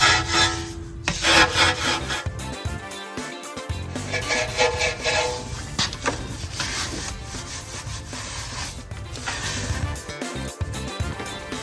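A brush scrubs deep behind a car wheel to loosen brake dust, producing continuous close bristly scraping and rubbing with uneven strokes, steady throughout with a few brief knocks.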